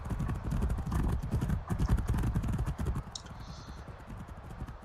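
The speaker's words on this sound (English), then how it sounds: "And Vauxhall Horse are still leading the pack." Galloping hooves from a horse race sound effect pound in a rapid, steady clip-clop rhythm, loud and close, with a brief high whinny-like call near the end.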